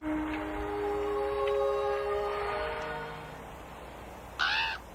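Crows caw in a horror film, with a short burst of harsh calls near the end over a steady droning score.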